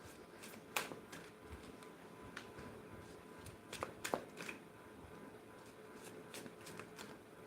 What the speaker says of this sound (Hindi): पहले कार्ड्स निकाल लूँ